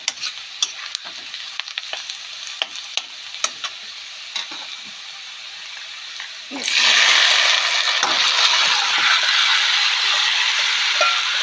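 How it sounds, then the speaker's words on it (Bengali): Beef poured into a hot pan bursts into a loud, steady sizzle after scattered scraping and clinking of stirring, the frying continuing with occasional spoon scrapes; a voice is faintly present. "মাংস ঢেলে দিই"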